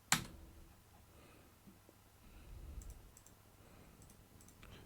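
A single sharp click of the Enter key on a computer keyboard, close and crisp, followed by faint scattered ticks over quiet room tone.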